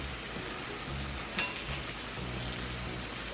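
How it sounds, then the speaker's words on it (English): Vegetables for steak tacos cooking over a hot fire, a soft continuous sizzle with a low background hum and one sharp utensil tap midway. "let me get my veggies cooked up"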